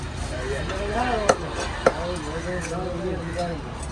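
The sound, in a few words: chopping fish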